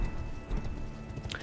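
Horse in the Elden Ring video game: rapid hoof clip-clops run steadily under a dense game soundscape, with a short whinny rising near the end.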